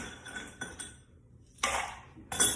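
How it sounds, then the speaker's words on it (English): Cubed ice drops into a cocktail shaker, a few bright clinks and rattling crashes in short bursts, close and with no talk. "We're going to add cubed ice to your shaker."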